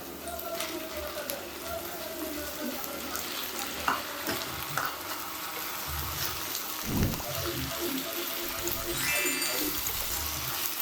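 Cleaned squid hits a hot pan for a spicy squid fry, giving a soft, continuous sizzle with occasional scraping stirs and crackles, fairly quiet and steady throughout.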